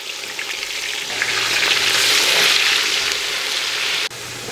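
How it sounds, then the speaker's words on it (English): Chopped onions fry in a pan with fish and fermented snail for Senegalese thieboudienne, a loud, steady sizzle that swells and eases, with a brief clatter near the end. "next we're going to add our chopped onions and fry them until caramelized"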